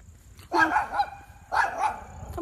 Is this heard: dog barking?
yes